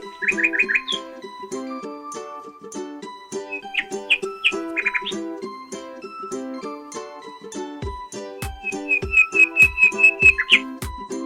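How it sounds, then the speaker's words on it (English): Nightingale song, with bright whistled phrases and rapid chirping trills that come in short bursts and then a fast repeated run near the end. The birdsong sits over a soft, steady tonal background. "nightingale"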